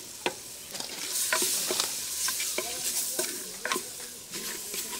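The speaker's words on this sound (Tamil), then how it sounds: "அந்த தக்காளியும் போட்டு நல்லா வதக்கிக்கலாம்." Tomatoes sautéing in ginger garlic paste in a pan for a village-style country chicken curry, with steady close sizzling and frying hiss broken by repeated scraping stir strokes of a spoon, no talk.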